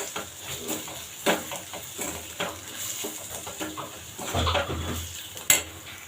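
Mushroom fry being stirred in a pan with coriander, cumin powder and chili powder, giving soft scraping and clinks of a spoon against metal, with a few sharper knocks, steady and close with no talking.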